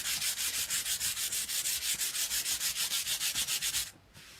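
Rhythmic back-and-forth sanding of a fibrous wooden backer piece for a mistletoe sign, about twenty quick even strokes, close and steady, stopping abruptly near the end.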